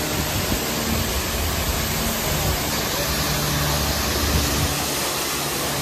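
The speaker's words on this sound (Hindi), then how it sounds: "ये नीचे से जोरदार झरना बह रहा है" A powerful waterfall below a mountain trail on the Chandanwari to Sheshnag route toward Amarnath roars in a steady, dense broadband rush that stays loud and unbroken throughout.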